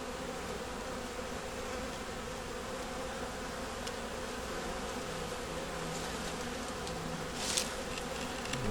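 Honey bees at an open hive hum in a steady, dense drone close by, with a few louder individual buzzes passing near the end and no one talking.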